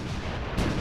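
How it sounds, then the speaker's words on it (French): An artillery battery fires on a country road: a heavy, rumbling burst, dense low booms rolling on for under a second and swelling louder toward the end. "on a entendu un tir de batterie"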